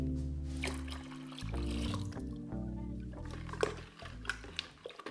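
Water is poured into a jar of paint-on glaze for mixing, a continuous close liquid pour with trickling and splashing that swells and then breaks into short gurgles as it slows.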